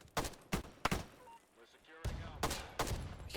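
QBZ-95 rifle fire in a Roblox first-person shooter, several sharp shots and short bursts close up, separated by brief lulls with fading echoes.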